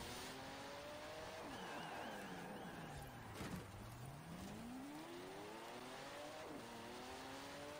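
A Porsche 918 in Forza Horizon 4 revs and accelerates, its engine pitch sweeping up and down through repeated gear changes. The steady, fairly quiet drone runs continuously, with a brief louder thump near the middle.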